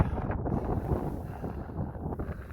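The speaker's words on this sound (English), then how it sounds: "The wind is blowing the sand like crazy." Steady wind gusting across sand dunes and buffeting the microphone, a low continuous rumble with hissing blown sand, fairly faint and brief.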